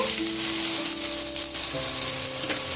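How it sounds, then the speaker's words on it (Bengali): Continuous, steady sizzling of chopped onions frying in hot oil for aloo katli, loud and close, with a faint stirring scrape partway through. "এক বাটি যে পেঁয়াজ কুচিয়ে রেখেছিলাম সেটা আমি তেলের মধ্যে অ্যাড করে দেব"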